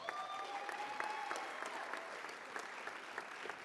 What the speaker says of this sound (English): Let's give a round of applause to the 3 finalists for the Canyons District Teacher of the Year